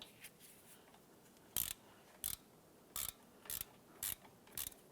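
A 17mm wrench and socket tighten the caliper bracket bolt on a 2012-2017 Toyota Camry, giving a series of short, sharp ratcheting clicks spaced under a second apart, close and fairly quiet.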